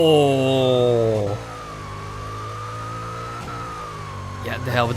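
A modded car's engine revs loudly in NFS Pro Street, a rising harmonic whine that drops off-throttle, then settles into a steady drone with a supercharger whine. Another rev swells at the end.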